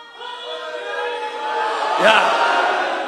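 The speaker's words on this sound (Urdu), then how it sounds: "پھر سے نعرہ لگاؤ تو مجھے ذرا سا حوصلہ ملے" At a Muharram religious gathering in Karachi, a crowd chants a religious slogan together, many voices holding a long, loud call that swells to a peak and then eases off.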